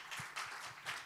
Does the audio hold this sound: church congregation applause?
yes